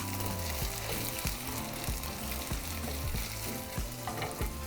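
Chorizo and pinto beans fry loudly in a pan, a steady dense sizzle broken by repeated scraping stirs of a spoon, close and continuous with no talking.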